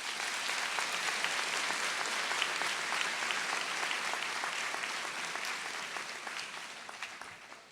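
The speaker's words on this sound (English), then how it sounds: "Round of applause for our seniors." An audience applauds high school seniors at a senior assembly: dense, steady clapping from a large crowd that holds level throughout and thins slightly near the end.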